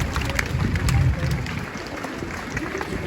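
At a street show on Edinburgh's Royal Mile, onlookers clap unevenly. The claps are fairly faint and spread out, mixed with outdoor crowd murmur, with a brief fuller burst near the start.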